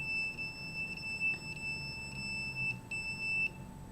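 A radiation detector alarm beeps repeatedly in short, evenly spaced high-pitched pulses over a low background hum, steady and close throughout.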